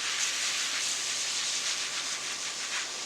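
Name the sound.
pump sprayer spritzing nutrient solution onto plant leaves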